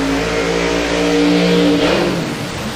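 Supercharged drag radial race cars accelerating hard down an Australian drag strip, a loud close engine roar with rising revs that fades as they pull away.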